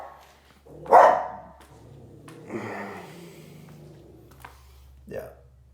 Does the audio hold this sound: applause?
no